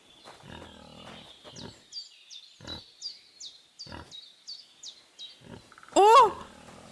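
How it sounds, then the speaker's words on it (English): A pig in the medieval game Kingdom Come Deliverance II gives a run of short rhythmic grunts over a few seconds, then a louder squeal, with bird chirps in the background. "I'm hearing a pig."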